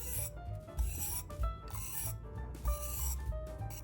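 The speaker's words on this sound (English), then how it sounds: "let's sweep the knife to polish the edge" A round leather knife is swept across a whetstone to polish its edge, making repeated close rasping strokes in a steady back-and-forth rhythm, each scrape rising and fading with no talk.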